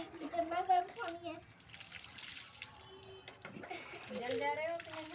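Hot water poured from a bucket for a bath on a cold winter morning gives a steady, splashing rush in the middle of the clip, framed by close voices talking.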